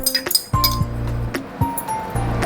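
A metal spoon clinking against a bowl or jar while measuring black and white mustard seeds, several sharp close ringing taps in quick uneven succession.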